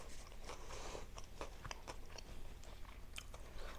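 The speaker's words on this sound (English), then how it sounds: "can y'all hear the crunch?" Close, crisp crunching and chewing on homemade tortilla chips in migas, a run of sharp bites and crackles over about four seconds with no talk.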